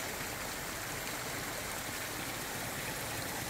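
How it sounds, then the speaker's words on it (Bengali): Cold spring water seeps out between rocks at the Weeping Rock of Chodak, an old village in Uzbekistan, making a steady, unbroken rush of running water close by with no other sounds. "দেখুন মানে একদম পাথরের চিপা চাপা দিয়ে পানিটা বের হচ্ছে,"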